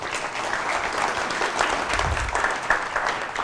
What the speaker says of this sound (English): let's have a round of applause for those people